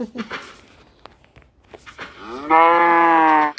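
A Minecraft cow gives one loud, sustained moo near the end, after quieter footsteps and a person speaking over the game.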